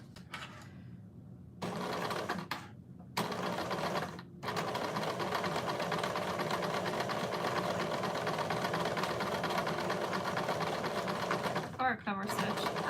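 A sewing machine stitching fabric runs in a loud, close, steady mechanical whir, starting and stopping briefly at first and then running continuously, with a short pause near the end.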